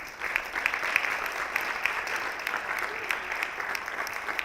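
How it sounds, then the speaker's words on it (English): Steady audience applause for school students and their orchestra at a district presentation, a sustained even patter of many hands clapping, moderately loud, continuing throughout with no break. "Let's give a round of applause to our phenomenal students and Mr. Heyer and our orchestra."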